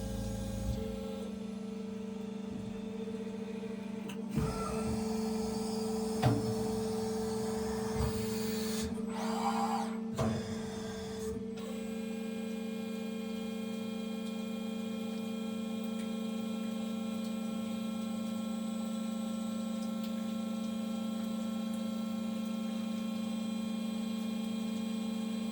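A Pedrazzoli SB160 end forming machine carries out a five-step tube reduction from 62 to 50 mm. A steady mechanical hum runs throughout, with a few short clanks and hydraulic bursts near the start, then an even drone.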